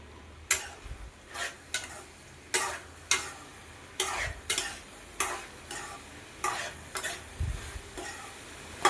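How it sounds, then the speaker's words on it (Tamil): Brinjal and beans sauté in a pan for a village mochai kottai kuzhambu, with a spoon scraping through them in about fifteen quick, regular strokes over a soft, steady sizzle, close and clear. "கத்திரிக்காய், பயறு எல்லாமே நல்லா வதங்கி வந்துருச்சு."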